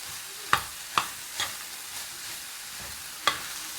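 Onion, cabbage and garlic for a samosa filling are stirred in a pan, several sharp scraping clicks of the utensil spaced apart over a soft low sizzle, close and quiet, without speech.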